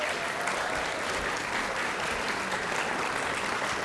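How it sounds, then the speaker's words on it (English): A dense, even wash of audience applause continues at a state science and engineering fair awards ceremony, steady and full throughout with no clear talk. "let's give a round of applause to all of our Biological Science A winners"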